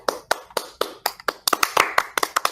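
Hands clapping in an uneven series of sharp, close slaps, about a dozen over a couple of seconds, speeding up toward the end with no voices.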